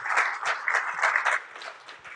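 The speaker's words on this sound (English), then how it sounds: "give a warm round of applause for all the sponsors" An audience at a convention and expo claps for the sponsors, a short, moderately faint round of applause that pulses briefly and tapers off into scattered claps.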